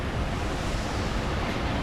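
Storm surge water after a hurricane churns with waves, a loud, continuous roar of surf mixed with heavy wind buffeting the microphone.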